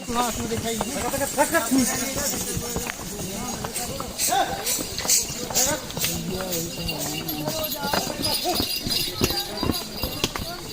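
Horses walk along the busy Vaishno Devi pilgrimage path, their hooves clopping steadily in the background while a crowd of pilgrims talks loudly over them.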